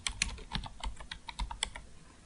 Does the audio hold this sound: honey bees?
no